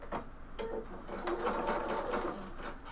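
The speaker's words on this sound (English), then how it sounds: "I'm going to backstitch." A sewing machine backstitches a bomber jacket welt with a close, continuous motor whir and needle rattle running steadily for about three seconds.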